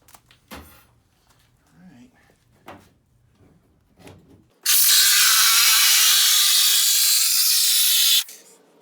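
A 14-teeth-per-inch saw cuts through car quarter panel sheet metal in a loud, harsh, continuous burst lasting about four seconds, following a stretch of talking.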